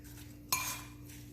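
A spoon clinks once against a bowl of apples, cinnamon and brown sugar being stirred, a single close metallic chink over a quiet kitchen background.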